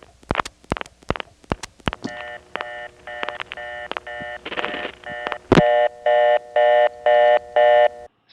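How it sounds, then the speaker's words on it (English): Telephone tones from a 1977 Carolina Telephone 611 trunk in Wilson, NC: a burst of rapid clicks and short dialing tones, then a loud steady ringing cadence in about five even bursts, unattenuated and at full volume. "611 has an unusual ring on their trunks, mainly because there's no attenuation"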